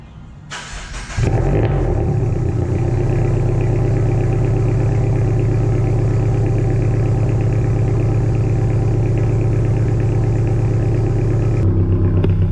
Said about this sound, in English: I'm gonna go ahead and get the car started up and make sure there's no exhaust leaks.